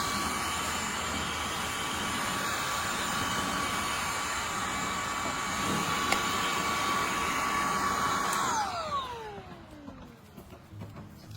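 An Oneisall cordless pet vacuum running with a steady, close whine and airy rush that holds for several seconds, then winds down in pitch as it switches off.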